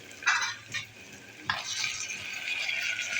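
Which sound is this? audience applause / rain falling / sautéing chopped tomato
sautéing chopped tomato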